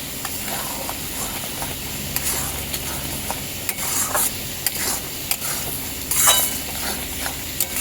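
Prawn curry with fresh cream and garam masala bubbles gently in a pan, a soft continuous sizzle and hiss with occasional stirring scrapes, close and steady, no talking.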